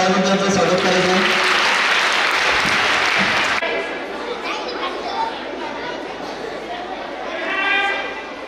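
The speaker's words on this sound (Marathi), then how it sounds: "सर्वांनी टाळ्या वाजवून त्यांचं स्वागत करायचं आहे." Audience at a school student quiz competition bursts into loud, sustained clapping for several seconds, then the applause drops off abruptly into softer crowd murmur and chatter, with a small swell of voices near the end.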